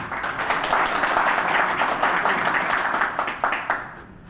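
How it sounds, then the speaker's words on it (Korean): Audience applause at a year-end seminar welcoming a guest lecturer, dense steady clapping from a large crowd throughout, tapering off near the end. "박수로 맞아주시기 바랍니다."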